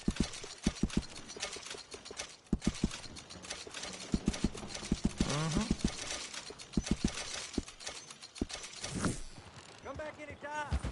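Rhythmic hoof clopping sounds in steady beats from a horse in a PS4 video game, with talking and game-like ambient sounds in between.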